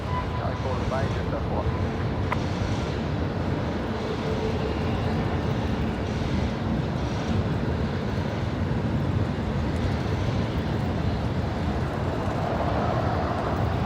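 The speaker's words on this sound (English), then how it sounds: "Qantas 543 heading down to Sydney here off of runway left." A Qantas airliner bound for Sydney departs a Brisbane Airport runway at night, its engines making a steady, broad roar that holds evenly for the whole stretch with no clear rise or fade.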